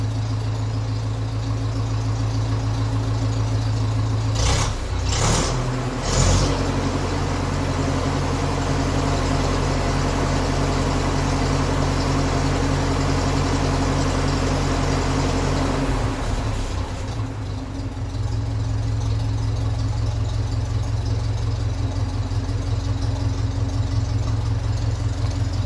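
A 1957 Ferguson 35 tractor running on TVO, its engine idling with a steady low thrum and exhaust beat, a few sharp knocks around the middle, and the note briefly changing before settling back to a constant idle.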